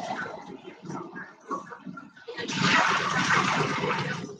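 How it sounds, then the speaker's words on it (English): Water running into a coffee pot from a tap: a steady rushing pour that grows louder and fuller partway through, with a person talking softly over the start. "Fill up your pot, coffee pot."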